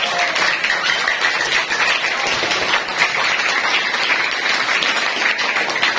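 Students applaud together at a school assembly during a Maulid Nabi religious gathering at a junior high school, a dense, steady roar of many hands clapping that holds evenly for the whole stretch.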